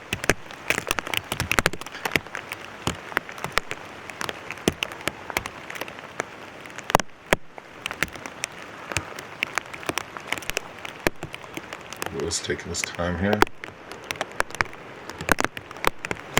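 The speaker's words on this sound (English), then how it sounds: "I think the rain's giving him a little bit of trouble." Rain patters steadily on a disc golf course during a tournament round, a dense wash of drops on surfaces with scattered louder taps, while a commentator speaks briefly over it.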